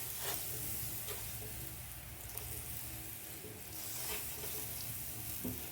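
Butter melting on a preheated grill pan gives a steady, close sizzling hiss with a soft frying crackle that runs unbroken throughout, ahead of cooking bacon-wrapped enoki mushrooms.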